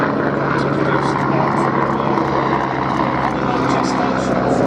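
A Westland Scout helicopter flies at the Duxford air show, its engine and rotor a loud, steady drone throughout, with a commentator speaking over it.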